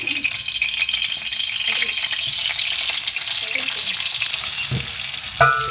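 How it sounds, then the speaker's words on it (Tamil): Onion, mustard seeds and green chilli frying in hot oil, a loud continuous crackling sizzle close by with occasional stirring scrapes and a clank toward the end. "ஸோ வெங்காயம், கடுகு, பச்சை மிளகாய் போட்டு வதக்கி கொண்டிருக்கிறோம்."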